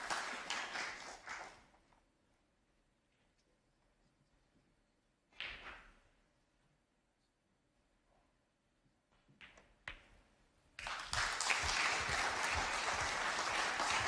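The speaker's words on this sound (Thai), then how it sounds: "กับเสียงปรบมือจากโต๊ะข้างๆนะครับ" Applause from a neighbouring table at the 2019 English Open snooker tournament, bursts of clapping at the start and end with faint taps and knocks between, moderately near.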